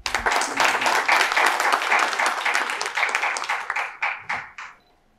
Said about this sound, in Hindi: एक तालियां तो बननी चाहिए।